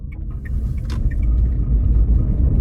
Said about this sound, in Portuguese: eu vou começar o percurso por esse trecho de pedra irregular